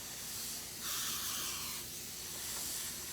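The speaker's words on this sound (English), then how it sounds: "It's a fabric sealer, and I spray it over top of it to help as well." An aerosol can of fabric sealer sprays over a hoodie in one sustained, loud hissing burst of about a second, set against a steady background hiss.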